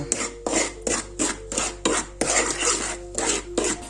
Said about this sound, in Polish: I jeszcze zamieszam to teraz